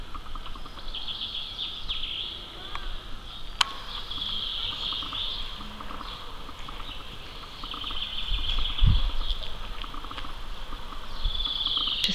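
Birds sing and chirp steadily in a churchyard in Hungerford, England, bright repeated calls at a moderate distance over a quiet background hum, with no talking.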